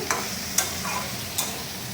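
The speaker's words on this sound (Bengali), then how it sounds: "আলুটা লাল করে আগে ভালোভাবে চিকা ভাজা হয়ে গেছে আর এই ডাটাটা দিয়ে দেবো" Potatoes fried until reddish with vegetable stalks added, stirred in a pan: a steady low sizzle under a few sharp scraping strokes of the spatula, close and moderately loud, with no talking.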